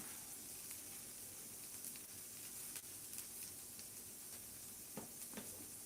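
Potatoes searing in butter in a pan, a steady close hiss and sizzle running throughout with occasional small pops and crackles, no talking.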